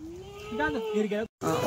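A Kathiawadi goat gives a single drawn-out, wavering bleat, close and clear, with people talking around it before a brief cut.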